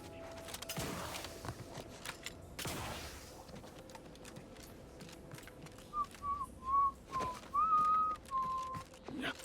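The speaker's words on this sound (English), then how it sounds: "I don't know why I'm whistling like an idiot right now." Someone whistles a short wavering tune in bursts inside a sci-fi video game, moderately close over a low ambient game bed with occasional thumps.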